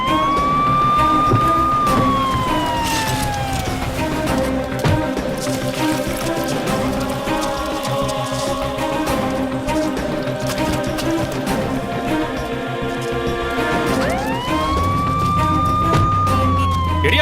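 An ambulance siren in a Tamil crime thriller film scene wails loudly at the start and again near the end, rising and falling over steady engine and traffic rumble, with no speech.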